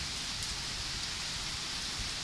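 Rain falls steadily on a village house, a constant, close hiss of drops on surfaces with no voices.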